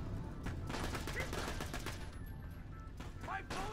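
Gunfire bursts in the video game Borderlands The Pre-Sequel, rapid shots mixed with game effects while a player talks over the action.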